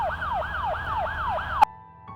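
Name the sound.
ambulance siren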